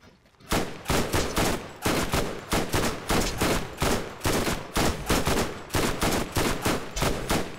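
Rapid bursts of automatic gunfire from an SMG and a turret in the video game Borderlands, dense loud volleys repeating in quick succession with no talk over them.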